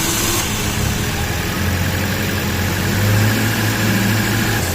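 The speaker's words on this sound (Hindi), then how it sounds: "तो अभी अब हम गाड़ी पे एक फर्स्ट सेल्फ लगाने लगे" A 2011 Toyota Corolla engine turns over on the starter during a first start attempt, giving a steady loud mechanical drone with a low hum rising slightly midway, close and alone without talk.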